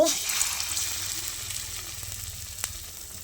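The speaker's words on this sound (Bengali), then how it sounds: "আর এটা ডুবো তেলে ভাজতে হবে" Cauliflower chops frying in deep hot oil in a wok sizzle with a steady bright hiss, loud at first and then easing, with one sharp crackle near the end and no talking.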